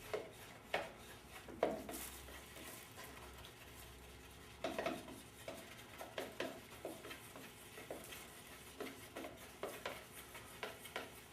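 Thick paint being stirred in a can for a 1968 Firebird restoration, with repeated scraping and clinking strokes against the metal can, close and fairly quiet, no talking.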